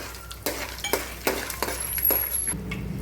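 Cardamom, cinnamon and cloves fry in a pan for pudina rice, a soft sizzle under several sharp clinks and scrapes of a spoon against the metal pan.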